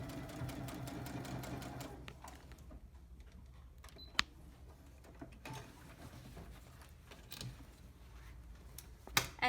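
A sewing machine runs in a quick burst as it backstitches at the top of a lapped zipper, followed by quieter handling clicks and taps with no talking.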